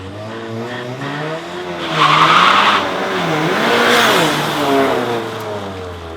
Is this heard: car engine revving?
yes